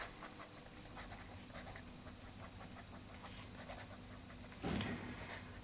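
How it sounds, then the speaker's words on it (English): A fountain pen with a fairly fine medium nib and slight feedback writes Mont Blanc Royal Blue ink on paper, giving faint, close scratchy strokes in a quiet room, with a slightly louder scrape near the end. "Okay, let's do a bit of writing."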